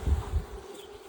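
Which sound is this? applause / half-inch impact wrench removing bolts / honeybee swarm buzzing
honeybee swarm buzzing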